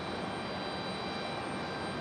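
A United airliner departs from the runway at Raleigh-Durham International in stormy weather, its jet engines giving a steady, broad roar that stays even and unbroken throughout.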